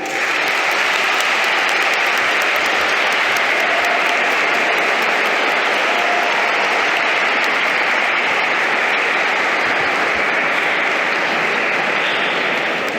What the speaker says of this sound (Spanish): Pido un fuerte aplauso para Lola Mascarell y con ella para todas las mujeres escritoras.